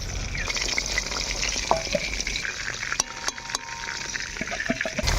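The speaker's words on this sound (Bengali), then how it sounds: "এই যে টুনা ফিশের একদম লেজ মত মজা করে ভাজি নিয়ে" Tuna fish pieces seasoned with salt and turmeric fry in oil in a pan, giving a steady close sizzle broken by a few scraping stirs and clinks.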